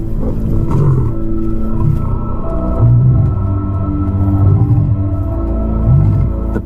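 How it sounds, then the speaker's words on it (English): A pride male lion roars a warning, a series of deep, loud, rhythmic grunting roars repeating about once a second, close and alone without talk. "The pride male roars his final warning."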